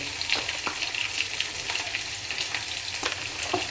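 Chili powder and turmeric frying in hot oil, giving a continuous crackling sizzle with scattered sharp pops and spits, close and steady, with no voices.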